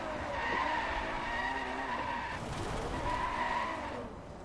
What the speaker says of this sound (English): The beige Ferrari does donuts.